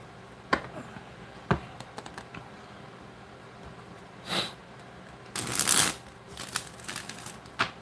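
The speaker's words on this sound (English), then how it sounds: "I'm gonna shuffle the cards" Tarot cards shuffled by hand in a few separate bursts, with quick riffling rustles and soft taps between them, close and fairly quiet.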